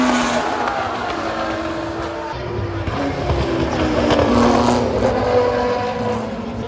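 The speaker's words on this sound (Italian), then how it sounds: "In effetti nel programma avevano scritto corsa delle auto sporche." Old racing cars roar past at the Italian Grand Prix, engines droning continuously at close range with rising and falling pitch as they go by, loud and steady throughout.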